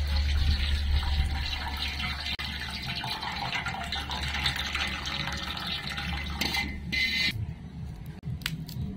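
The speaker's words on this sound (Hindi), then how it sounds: "इसमें पानी डालेंगे उड़दी दाल मैंने दो तीन पानी अच्छे से धुलेंगे" Water gushes from a tap onto urad dal being washed in a kitchen, a continuous close splashing and filling sound that breaks off briefly near the end.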